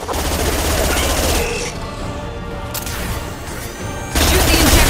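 Sustained battle gunfire in Mass Effect 2 rattles in dense automatic bursts, loud and close, easing briefly in the middle before surging back.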